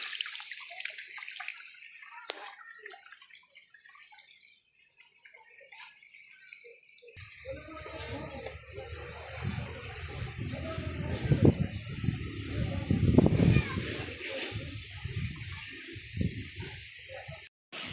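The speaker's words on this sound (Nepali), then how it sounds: "यहाँनिर पानी निस्किँदैछ" Water flowing out of an outlet in Gopal Park, Biratnagar, a steady rushing and splashing wash that swells in the second half, heard up close outdoors with no talk.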